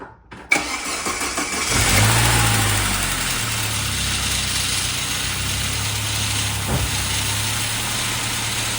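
A Saab NG900 engine cranks and catches after crankshaft seal and oil pump O-ring replacement, revs briefly, then settles into a steady, low idle that runs on evenly.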